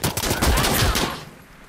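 Rapid automatic gunfire in Insurgency: Sandstorm, a dense loud burst of shots up close lasting about a second before cutting off into a fading tail.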